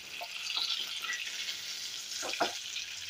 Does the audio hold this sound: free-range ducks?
no